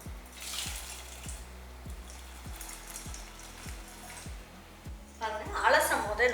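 Finely chopped bitter gourd pieces are swished and rinsed in a bowl of water, producing a brief, close splashing toward the end over a steady rhythmic background beat.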